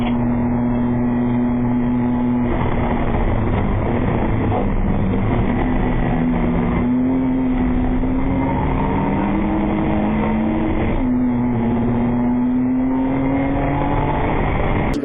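Racing cars at Brands Hatch plunge down into Paddock Hill Bend and climb uphill, a loud, continuous engine roar with several overlapping motors rising and falling in pitch as they pass, with no talk.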